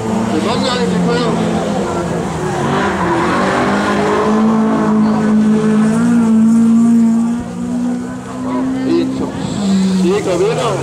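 Race cars lap a circuit at Ørnedalsbanen in Denmark, engines droning and shifting pitch as they pass at moderate distance, with a commentator talking over the steady roar throughout.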